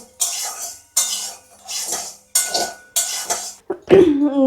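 Rice grains being stirred as they fry in a pan, five or six rhythmic scraping sweeps of a utensil, close and fairly loud, ending with a brief metallic clatter and a short voice-like sound.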